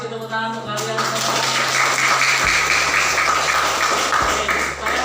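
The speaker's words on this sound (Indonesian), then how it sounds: "terima kasih tepuk tangan untuk kalian semua" Students at SMP Negeri 1 Lujami clap together in a classroom during a practice teaching lesson, a dense, steady patter of hands that follows a teacher's voice and lasts several seconds.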